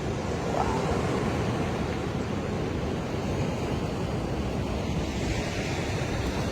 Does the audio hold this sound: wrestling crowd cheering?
no